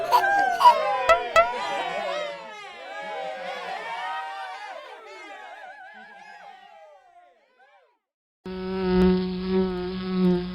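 A cartoon fly buzzes in warbling, wavering tones, a voice imitating insect buzzing that fades out over several seconds, followed by a brief silence and then bright music.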